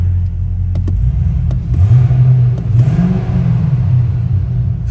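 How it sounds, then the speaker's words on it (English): A stock 2009 Cadillac CTS-V engine idles with a deep rumble, then revs up twice in quick pulses before settling back, heard up close. "take a little closer listen at the engine, rev it a couple times"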